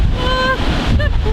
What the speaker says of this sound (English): Massive waves, no surfers.